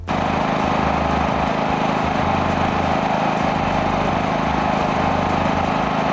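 An AL-KO generator engine running steadily under noise testing, a loud, constant mechanical drone with a buzzing hum that holds an even level from start to finish.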